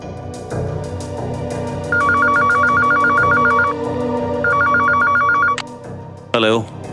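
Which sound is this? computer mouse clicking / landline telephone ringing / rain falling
landline telephone ringing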